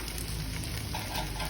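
Pork tenderloin with papaya simmering in a pan, a steady close sizzle and bubbling hiss that runs continuously without talk.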